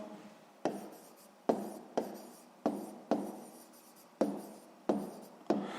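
A pen writes out a sixth-grade math solution on paper, about eight quick scratching strokes in an uneven rhythm, close and clear in a quiet room.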